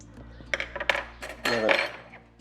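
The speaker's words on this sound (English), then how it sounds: "Now for the aubergine or eggplant. You just want to scoop out the flesh from inside." Metal spoon scraping and clinking against a dish while scooping the soft flesh from a roasted aubergine, a few close scrapes and taps over a low steady hum.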